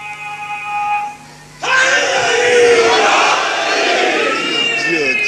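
A large crowd at a Shia religious lecture bursts into a loud, sustained slogan chant with raised hands, following a brief moment of speaking; the massed voices stay dense and strong to the end.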